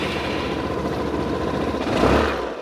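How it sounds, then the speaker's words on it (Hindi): A Hero Destini 125 or Suzuki Access 125 scooter engine idles with a steady low exhaust hum, nearby and even, swelling briefly in a slight rev toward the end. "कुछ ऐसा एग्जॉस्ट नोट आपको यहाँ पे मिलने वाला है।"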